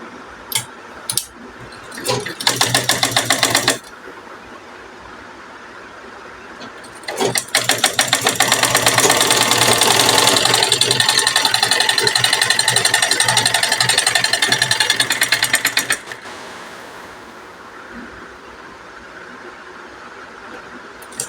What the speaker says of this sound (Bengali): আবার এখান থেকে শুরু করে এই পর্যন্ত সেলাই করে নিব